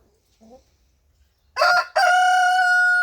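A backyard rooster crows once, loud and close, a strident broken call after a brief soft hen cluck and some quiet shuffling.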